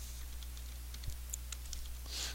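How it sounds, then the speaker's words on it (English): Fingers tap on a computer keyboard, a scatter of light, quiet key clicks at an irregular pace over a steady low electrical hum, with no talking. "you just click and you just start typing"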